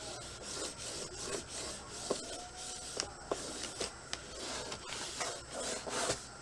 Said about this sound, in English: let me go ahead and burnish it